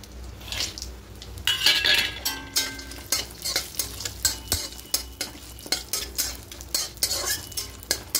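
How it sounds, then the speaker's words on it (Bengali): Cashews and raisins fry lightly in a pan with cardamom paste, steady sizzling punctuated by a regular rhythm of spoon scrapes and clinks against the pan, close and clear with no talk. "খুব বেশি ভাজবো না, হালকা করে একটু ভেজে নেব"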